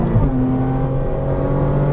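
A Porsche Cayman R on a race track pulls hard under throttle, its engine note rising steadily in a loud, close, continuous whine with no talk.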